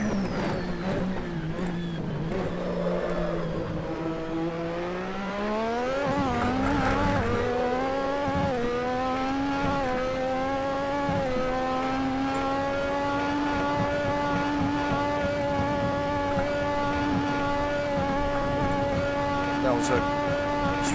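A Lotus 98T Formula One car at full throttle in the Assetto Corsa racing game, engine note climbing in pitch through a gearchange, then holding a steady, loud, high, buzzing whine at speed, with a voice talking over it early on.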